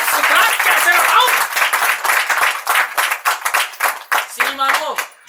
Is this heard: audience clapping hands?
yes